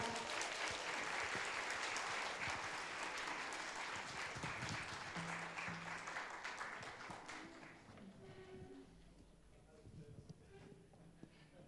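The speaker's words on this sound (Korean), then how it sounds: "여러분 큰 박수로 맞이해 주시기 바랍니다" Audience applause welcoming the chairman of the Presidential Committee on Balanced Regional Development at a youth talk concert, loud and steady at first, then thinning and fading into quieter room noise with scattered claps.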